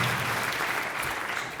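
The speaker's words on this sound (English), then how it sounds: "Let's give him a big round of applause." Audience applause fills a hall at a hometown hall of fame ceremony, a steady dense clatter of many hands clapping close and loud throughout, with a faint voice or two underneath.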